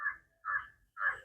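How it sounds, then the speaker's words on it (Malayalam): Three harsh, raspy calls from a Caspian tern, a large red-billed sea bird, evenly spaced about half a second apart, fairly close and clear against a quiet background. "ഇതിനെ ഇംഗ്ലീഷ് ഇംഗ്ലീഷിൽ കാസ്പിയൻ ടേൺ എന്നാണ് പറയുന്നത്"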